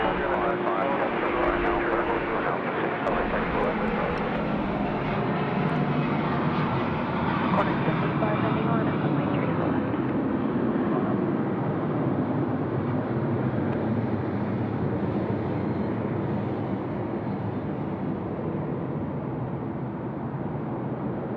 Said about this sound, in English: the AirAsia A330 rolling 3-4 left